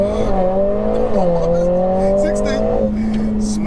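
A tuned 500bhp Mercedes A45S launches and accelerates hard, its engine note loud and close, rising steadily in pitch through the gears with a brief shift dip, and faint crackles on top.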